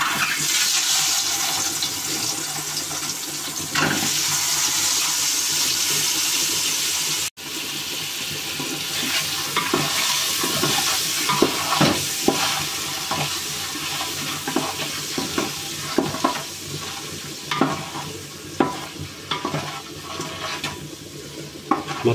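Boiled eggs stirred into sizzling masala for egg biryani in a village kitchen, a steady frying hiss under repeated scraping and stirring strokes, close and continuous with one brief break.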